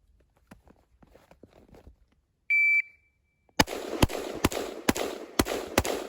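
Six sharp gunshots from a Palmetto State Armory pistol crack out close and loud in a quick string after a timer beep, each report evenly spaced with faint shuffling before.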